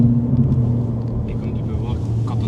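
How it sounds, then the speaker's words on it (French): A Ford Focus ST MK2 accelerates as turbo pressure builds, heard from inside as a steady, loud, low engine drone with people talking over it. "quand on accélère, la pression à turbo monte"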